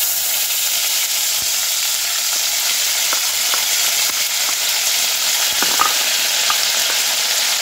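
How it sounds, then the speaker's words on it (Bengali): Ginger paste sizzles in hot oil in a kadai while cooking a vegetable biryani, producing a steady, close hiss with scattered faint crackles and light stirring taps, no voices. "তেল দিয়ে দেব কড়ার মধ্যে। এই তেলের মধ্যে দিয়ে দেব আদা বাটা,"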